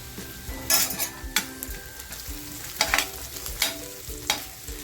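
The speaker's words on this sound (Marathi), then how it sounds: "त्या मिरच्यासुद्धा टाकते या कांद्याबरोबर म्हणजे त्याही अशा छान फ्राय होतील त्याच्यानंतर जो कढीपत्ता घेतला आहे तो कढीपत्ता टाकते" Green chillies and curry leaves frying with onions in a pan, a continuous sizzle broken by repeated stirring scrapes and spoon clinks against the pan, near and loud, no speech.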